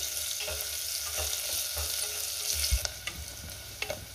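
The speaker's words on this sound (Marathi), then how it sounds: "आपल्याला बारीक चिरलेला कांदा घालायचा आहे आणि कांदा चांगला 2 मिनिटं मी परतून घेणार आहे।" Finely chopped onion frying in a pan, a steady soft sizzle with scattered stirring scrapes and clinks, fairly quiet and heard alone without talk.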